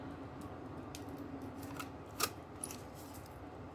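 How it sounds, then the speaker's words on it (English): A crocodile paper punch snapping through paper shapes gives a few quiet clicks, with one sharp, close snap standing out over faint background hiss. "so I just punch them out with my crocodile"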